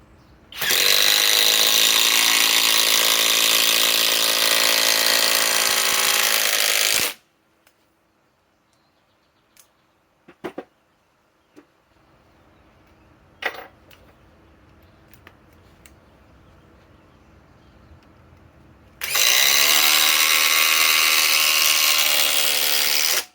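Compact impact driver sinking 6-inch timber lock screws into wood, two long loud bursts of rapid hammering with a quiet stretch of scattered clicks and knocks between them.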